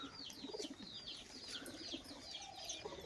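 A green male pigeon coos softly in repeated low phrases, mixed with small chirps from other birds nearby, faint and continuous.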